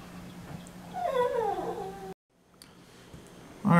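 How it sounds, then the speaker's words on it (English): A dog whines once, a drawn-out falling whimper heard close and fairly quiet against a low room hum, followed by a brief silence and a sharp sound at the end. "That's my dog. It's whining."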